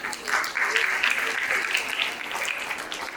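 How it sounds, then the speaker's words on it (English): An audience at an evening award ceremony for a Gita chanting competition claps in a dense, sustained burst that swells quickly and carries on steadily for a few seconds, with no talking over it. "I think we should give a big applause for him."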